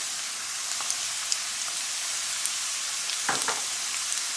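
Garlic paste fries in a hot pan with a steady, fairly quiet sizzle and crackle, plus a brief louder burst of spattering toward the end; no one speaks.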